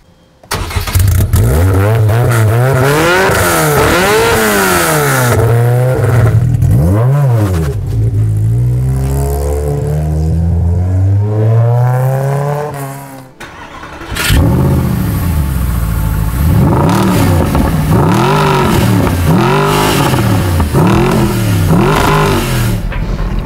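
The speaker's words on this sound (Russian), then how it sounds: "Этот звук мотора буквально сводит с ума." Mercedes-Benz SLS AMG naturally aspirated engine revving loudly and repeatedly, with rising and falling pitch sweeps, a brief dip midway, then more hard revs close by.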